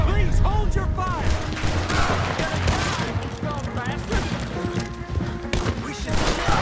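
Gunfire in Red Dead Redemption 2: repeated loud gunshots and scattered volleys in a chaotic firefight, with impacts and shouted voices mixed in throughout.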